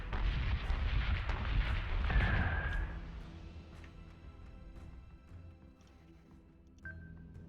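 Weapons fire in the space combat game Battlestar Galactica Deadlock booms and rumbles densely at first, then thins into scattered distant thuds over a low hum, with a brief tonal whine near the end.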